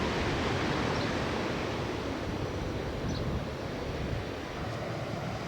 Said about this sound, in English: Now the wave will break